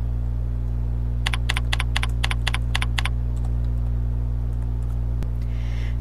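A password is typed on a computer keyboard in a quick burst of about eight crisp keystrokes, then a single later tap, over a steady low electrical hum.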